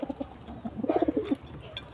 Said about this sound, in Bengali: ওটা নর পায়রা আর এটা মাদি পায়রা